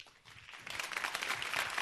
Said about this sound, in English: I request all of you to applaud yourself for being here